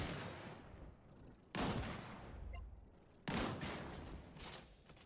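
Gunfire in the video game Disintegration comes as several loud, close bursts of rapid shots. Each burst starts abruptly and decays into a noisy rumble, with no talk over it.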